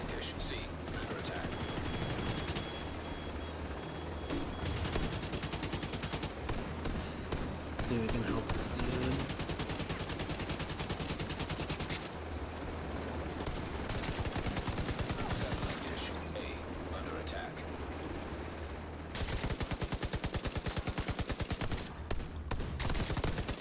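Sustained gunfire during a firefight in The Division 2, including an enemy's blind fire, with near-constant rapid shots and bursts under loud talk from players throughout.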